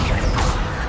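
Accio summoning spell effect in the video game Hogwarts Legacy: a brief mechanical whooshing creak with a rising swish in the middle, loud and close, over a steady game rumble.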